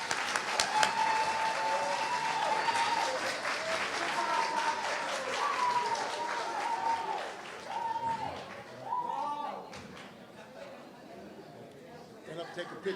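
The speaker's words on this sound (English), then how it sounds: "Let's give them a round of applause, please." A school Black History program audience applauds two students receiving recognition plaques: steady crowd clapping throughout, with a voice talking over it and scattered chatter as the applause thins toward the end.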